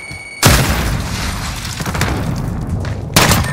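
A grenade explodes in the video game Call of Duty: Modern Warfare with a sudden loud boom and a long rumbling tail, then a second heavy blast hits near the end.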